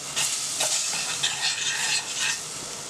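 Milk poured little by little into a flour-and-butter roux in a pan and stirred for béchamel, giving a steady soft hiss and scraping that runs throughout, close up, with no talking.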